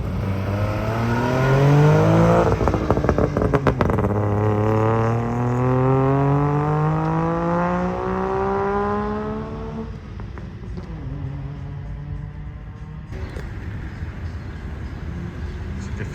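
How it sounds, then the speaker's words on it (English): Saab cars leave an owners' convention, one engine revving up through rising gears and pulling away loudly, then fading as other traffic rumbles on in the distance. "A few guys are leaving for the day or just taking their cars out."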